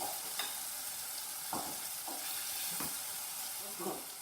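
Spinach sauce frying in a pan, reducing its water: a loud, constant hiss of sizzling fills the whole stretch, with occasional scrapes and taps of a utensil stirring the sauce.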